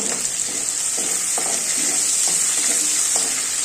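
Dried red chilies and bay leaves sizzle in hot oil in a wok, a steady bright frying hiss with soft periodic stirring scrapes roughly every half second, close and continuous with no voices.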